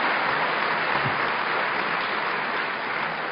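Conference audience applause at a closing plenary session, a dense, even wash of clapping from a large room that holds steady throughout without any voices over it.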